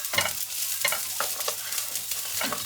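Onions frying in a pan for lasagne, a soft steady sizzle broken by several spatula stirs and scrapes at an uneven rhythm, close and fairly quiet.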